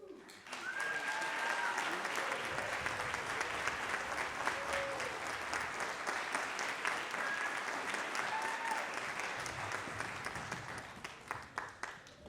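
A school concert audience gives a long burst of dense, steady applause to welcome the Ferris High School Wind Ensemble at a veterans concert. The clapping swells quickly, holds for several seconds, then thins near the end, with a few whistles mixed in.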